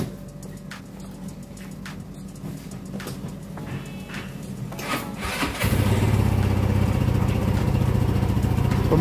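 A Peugeot Django scooter engine runs steadily at idle after throttle body cleaning, then picks up into a louder, fuller rev partway through, close by and with no one speaking.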